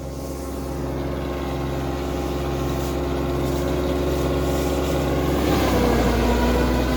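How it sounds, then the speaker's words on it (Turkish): A tractor engine runs in the field during a maralfalfa harvest, a steady near drone with a constant low hum that grows slightly louder and shifts near the end, with no talk. "Arkadaşlar ses çok duyulmuyor traktörün sesinden."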